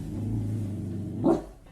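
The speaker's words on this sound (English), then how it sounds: "her dog barking into the darkness" A dog barking in the dark, a low rumbling growl followed by a single sharp bark, close by and loud in a quiet room.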